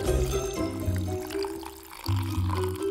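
Water pours into a container as it fills, a close, loud gurgling stream that falls away briefly partway through and then surges back, with no voices heard.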